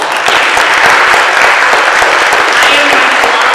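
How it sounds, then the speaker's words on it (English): A tutoring conference audience gives a panel a dense, loud, steady round of applause, a continuous wash of many hands clapping with no gaps throughout. "Can we give them another round of applause?"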